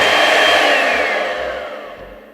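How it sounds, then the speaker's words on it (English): Electric hand mixer beating plantain cake batter in a mixing bowl, a loud steady whirring motor hum that holds for a couple of seconds and then gradually fades as it slows. "I will just go ahead and mix again with my hand mixer."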